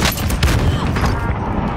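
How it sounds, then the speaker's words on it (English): Precision airstrike explosions in Call of Duty: Modern Warfare, a loud, dense rumble of blasts and crackling impacts that fades away toward the end. "friendly precision airstrike inbound"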